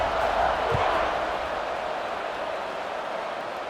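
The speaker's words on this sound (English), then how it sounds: "this crowd is buzzing after that last score" Crowd noise at a college football game between UNC and Syracuse, a steady broad roar of a stadium crowd buzzing after a score, loud at first and easing slightly, with no clear voices on top.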